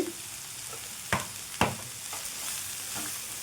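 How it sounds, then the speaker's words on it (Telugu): Chopped cabbage with turmeric is stirred in a pan, giving a few faint scraping strokes over a soft steady sizzle. "ఇప్పుడు ఈ ముక్కలకి పసుపు మొత్తం పట్టేంత వరకు కలిపేసుకోవాలండి"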